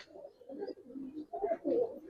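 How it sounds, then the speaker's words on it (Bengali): Pigeons at a bird seller's stall give low, soft cooing calls close by in short overlapping bursts, with no talk over them. "ছটপটা কবুতর তো ভাই"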